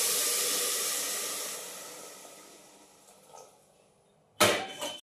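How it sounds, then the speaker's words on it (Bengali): Hot water is poured into a pan of cooking pulao, a loud hissing steam burst that slowly fades, followed by a short sharp sizzle and splash near the end. "তো এই জলটা আমি ঢেলে দিচ্ছি"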